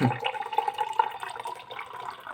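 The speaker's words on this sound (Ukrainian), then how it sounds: "як тільки наливається сік" JAFFA Superfruits cherry fruit juice gurgles close by as it is poured, a quick bubbling glug of liquid filling a container, steady and alone with no talk.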